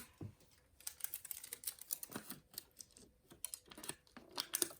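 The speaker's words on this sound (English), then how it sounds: "So I'm going to take a piece of tape." Adhesive tape pulled off a roll while preparing a top zip bag on a sewing embroidery machine, a run of short crackling rips and peels, close and fairly quiet, with no talking.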